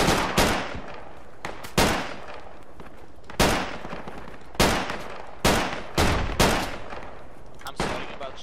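Gunfire in the Project Reality military shooter game, sharp loud shots in irregular bursts, some single and some doubled, with brief quiet gaps between.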